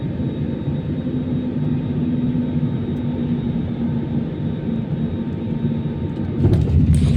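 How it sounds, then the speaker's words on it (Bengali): Heard from inside the cabin, a passenger plane landing at Kolkata airport gives off a steady, loud low rumble with a constant engine drone, and a brief clattering burst comes near the end. "তো ফাইনালি ল্যান্ড করলো আমাদের ফ্লাইট কলকাতায়।"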